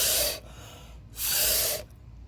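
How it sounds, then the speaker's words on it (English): Two strong, breathy blasts of air pushed through a straw over wet acrylic paint, each lasting about a third of a second, separated by a quiet gap, close and loud. "tend to help paint along by blowing it down with a straw"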